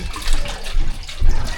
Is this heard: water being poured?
yes